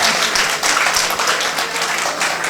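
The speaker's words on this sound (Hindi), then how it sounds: "तो आप अपने लिए भी तालियां बजाइए।" Applause from a large mushaira and kavi sammelan audience at a Hindi-Urdu poetry recital in Tilhar, a dense, steady patter of many hands clapping close by, continuous and loud throughout.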